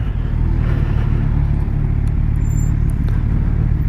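A 2017 Kawasaki Z1000 motorcycle rumbles loud and close in traffic, a steady low engine drone with slight shifts in pitch as it downshifts, with wind noise and no talk.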